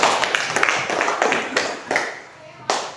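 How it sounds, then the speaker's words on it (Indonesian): A class of students claps hands during an Indonesian informatics lesson, a few uneven bursts of clapping with taps and classroom voices mixed in. "Oke, tepuk tangan."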